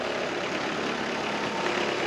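ATM72LC slope mower with its cutting deck running, a steady, loud engine drone that holds even and continuous throughout, with no talk over it.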